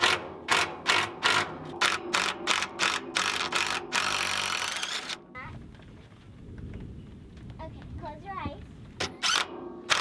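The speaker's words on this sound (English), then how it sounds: "I'm gonna take these outer mounting bolts and put some washers in there and then really cinch them back in." A ratchet clicks in a fast, rhythmic series while outer mounting bolts with washers are cinched down during a trail repair, followed by a few quieter clicks and faint mechanical handling.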